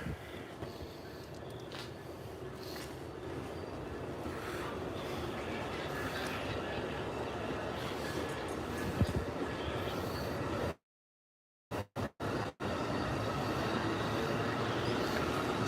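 Steady rumbling and rattling of a departing Amtrak passenger train with Superliner coach and sleeping cars rolling along, loud and continuous, with brief dropouts near the end.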